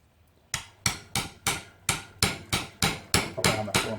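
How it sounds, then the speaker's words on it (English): A hammer strikes a small chisel again and again to cut through a CV joint boot, ten or so sharp metallic blows in a steady, slightly quickening rhythm, close and alone. "Get a little chisel, Yeah. and you can actually just hammer it,"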